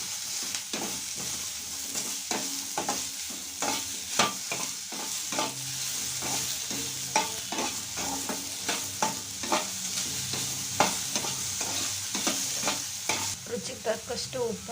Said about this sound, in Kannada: ಬೆಂಡೆಕಾಯಿ ಚೆನ್ನಾಗಿ ಫ್ರೈ ಆದಮೇಲೆ ಸ್ವಲ್ಪ ಈರುಳ್ಳಿ ಹಾಕಿ ಫ್ರೈ ಮಾಡಿ